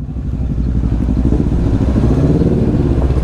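Several motorcycles, including 450 cc bikes, idle and rev inside a basement parking area, a loud, steady engine rumble with pulsing low throb and slight clatter throughout.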